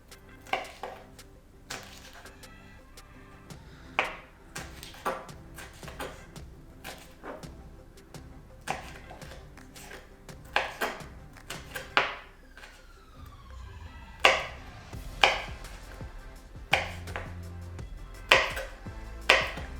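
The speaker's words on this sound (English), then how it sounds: "I'm gonna completely slice them in half. And then I'm just gonna cut them into small slices" A knife slices vegetables into small pieces on a board for a tofu stir-fry, giving a steady run of sharp, close chopping taps that grow louder toward the end, with a faint siren-like tone in the background.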